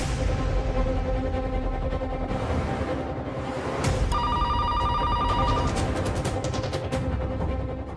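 A telephone bell rings with a bright repeating trill that grows louder partway through, heard indoors over a steady background hum.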